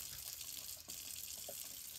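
Hot tap water runs steadily from a faucet while eggs for incubation are washed under it, a continuous even rush with no voices.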